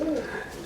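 One short, low coo from a pigeon in a breeding loft, soft and close, fading out within a second.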